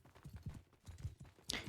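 Hooves of a horse clip-clop in quick repeated beats as it gallops during a cRPG2 medieval combat match, faint and brief, with a sharper clatter near the end.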